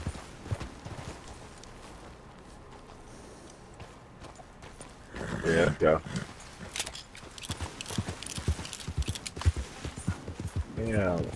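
A horse's hooves clop along at a steady walking pace in Red Dead Online, moderately loud and close, with someone talking briefly over them.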